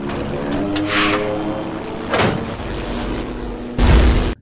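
Film battle effect of two rockets striking an enemy base in Laos: a loud, rumbling roar swells into heavy explosive booms, with a sharp blast midway and a final powerful impact.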